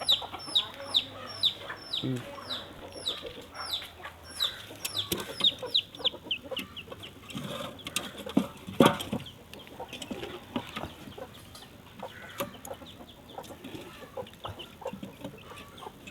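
Native country chickens clucking in the morning as their coop is opened, a lively mix of near and distant clucks and chirps over a steady background, with brief voices in between.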